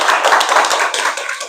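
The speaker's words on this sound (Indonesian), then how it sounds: "sudah tepuk tangan buat diri kita sendiri ya" Audience of students at an Islamic hadith study session clapping for themselves, a short burst of close, dense hand claps that fades toward the end.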